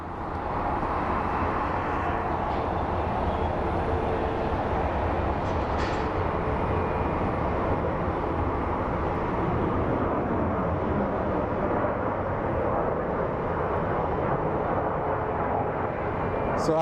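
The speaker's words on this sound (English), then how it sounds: "Southwest in its typical standard fashion, taxiing in Mach 10." A Southwest airliner taxis at Phoenix Sky Harbor airport, giving a continuous, heavy broadband jet roar that stays loud and steady throughout.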